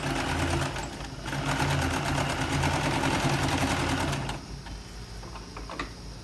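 A sewing machine stitching a shirt, running in a fast, steady mechanical whir for about four seconds before stopping, leaving only quieter room noise.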